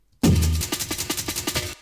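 Short sliced drum-break fill from a sample CD, chopped in a sampler: a heavy opening hit followed by a quick, evenly spaced run of about ten snappy repeated hits that stops abruptly.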